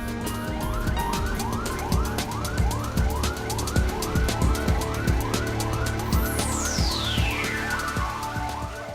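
An ambulance siren wails in a steady repeating up-and-down cycle, loud and close, with a descending electronic sweep near the end and no talking.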